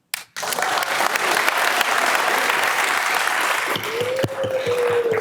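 Audience at a city council workshop in Oceanside breaks into loud, sustained applause with dense clapping, joined near the end by a rising whoop or whistle.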